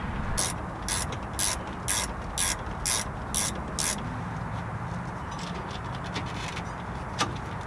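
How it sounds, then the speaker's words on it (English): A ratchet wrench loosens sway bar bolts under a truck during a shock replacement. About eight sharp, bright clicking bursts repeat in a steady rhythm close by, then fade into quiet shop background with one last faint click. "to get this sway bar off, you're just gonna need a 14 opening and a 14 to get under here"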